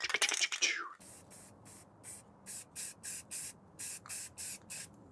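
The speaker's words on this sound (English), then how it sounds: "so I'm gonna just hose it down with tons of primer" Rapid bursts of aerosol primer spray coat a scratch-built Ghostbusters Ecto Goggles prop, about a dozen short hissing pulses in a steady rhythm, close and fairly loud, after a brief rattle at the start.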